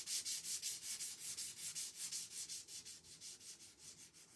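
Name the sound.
light sanding of a wooden frame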